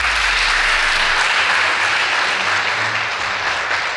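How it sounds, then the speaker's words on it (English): An audience at a school debate contest applauds two tied debate teams, producing dense, loud, continuous clapping that holds steady and fades slightly at the very end. "Please give them a round of applause."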